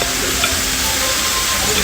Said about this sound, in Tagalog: Hindi ko siya makakain kaya kailangan lutuin ko siya ng baligtaran.